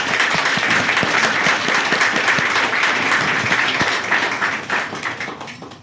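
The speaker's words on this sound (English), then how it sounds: "Let's give them a big round of applause" A large audience at a live panel event in New Canaan breaks into dense, sustained applause, many hands clapping loudly and steadily before the sound begins to thin out and fade toward the end.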